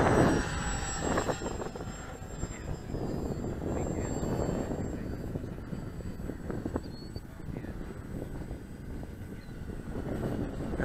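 A Parkzone Mosquito radio-controlled model airplane flying slowly outdoors, its electric motor and propeller buzzing at a moderate distance with slight rises and falls, over wind and faint background noise.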